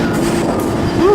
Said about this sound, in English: Seeing all the subway trains, the A's and the S.